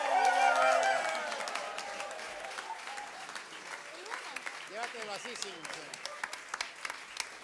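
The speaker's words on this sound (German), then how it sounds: "Begrüßen Sie mit mir mit einem großen Applaus der beste Salsa-Sänger überhaupt, José Mariano Leal Rodríguez de Venezuela." Loud audience applause at a salsa concert for a Venezuelan singer, strongest at the start and thinning into scattered claps as a voice speaks over it.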